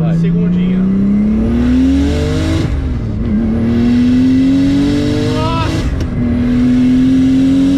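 A turbocharged BMW E36 accelerates hard on a test drive. Its engine note climbs steadily through the gears, with two brief shift dips, loud and close from inside the car. Voices are faintly present.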